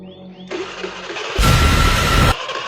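A motorcycle engine cranks with a whirring starter, catches briefly into a loud rough roar, then drops back without settling into a steady idle, failing to start.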